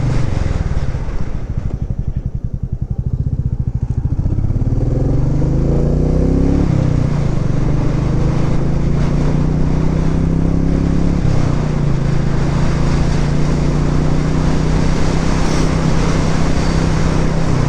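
A Royal Enfield Meteor 350 motorcycle cruises steadily along back roads in cold weather, its engine drone loud and continuous with gentle pitch shifts as speed changes, and no talking.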